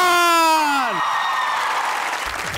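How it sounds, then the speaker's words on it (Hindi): A studio audience on a Pakistani comedy talk show breaks into a steady wash of applause that follows a host's sustained voice and continues loud and even for a couple of seconds. "तालियों में लगाएंगे पूरी जान"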